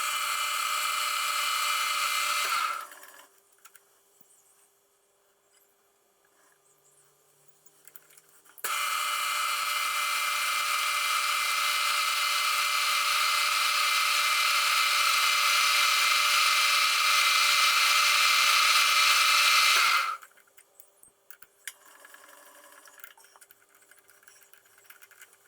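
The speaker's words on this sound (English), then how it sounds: "Two small holes are drilled without any problems" A drill bores two small holes in brake shoes, giving two steady, loud, high-pitched whining bursts: a short one at the start and a longer run of about twelve seconds, separated by a quiet pause.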